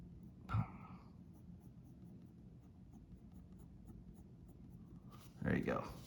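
A pencil draws a face on paper, making faint, close scratchy strokes in a quiet steady patter, with brief vocal sounds near the start and the end.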